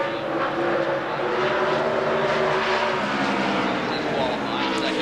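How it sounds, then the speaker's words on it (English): A Winston Cup stock car runs a qualifying lap at Richmond, its engine a steady, sustained roar held at a distance, with commentary running over it throughout. "there Jamie slowed down a little bit on his second lap"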